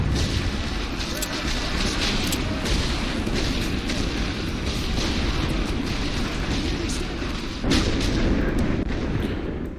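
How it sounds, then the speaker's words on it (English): Artillery guns in a First World War Western Front video game fire in repeated booms over a dense, continuous rumble of battle, distant and overlapping rather than as distinct single shots. "Our guns are firing like overtime."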